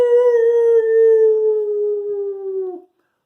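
A human voice imitates a pig howling with one long, sustained, slowly falling howl, loud and close, ending abruptly before a short silence.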